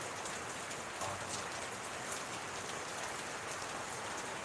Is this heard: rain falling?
yes